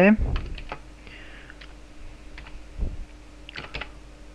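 Someone types a web address into a browser on a computer keyboard, a handful of scattered keystrokes and clicks at close range after a brief voice at the start.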